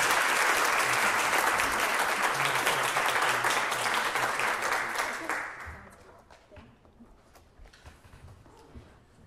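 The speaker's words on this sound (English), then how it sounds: "Let's give them both a round of applause." A crowd applauds loudly and steadily for several seconds, then the clapping thins out and fades to a few scattered claps.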